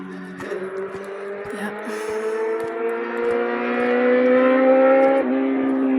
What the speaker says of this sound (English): they race up to the top of the Sandia Peak, and then they race back down.